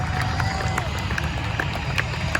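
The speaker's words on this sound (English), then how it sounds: "Let's give Kevin a huge round of applause" Crowd applause at the Rose City Airfest airshow, steady dense clapping from a large outdoor audience with some scattered voices, continuous and fairly loud throughout.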